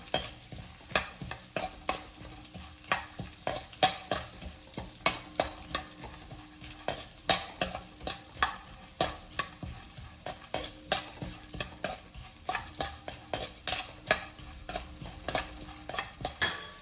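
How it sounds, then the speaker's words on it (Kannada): Nuts roast in ghee over a low flame, with rapid, rhythmic stirring scrapes over a soft, steady sizzle. The close-up sound stays consistent throughout and no one speaks. "ಸ್ವಲ್ಪ ಕೆಂಪಾಗೋವರೆಗೆ ಗ್ಯಾಸನ್ನು ಸಣ್ಣಿಟ್ಟು ಹುರ್ಕೋಬೇಕು"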